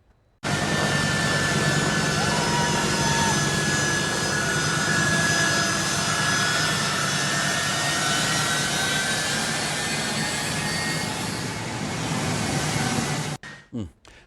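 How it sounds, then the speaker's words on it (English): Jet aircraft engines roar steadily and loudly from departing planes at Kabul's main airport during a mass evacuation, a broad sustained rumble and whine filling nearly the whole stretch before cutting off abruptly near the end. "Thousands of people fled toward those planes departing Kabul's main airport today."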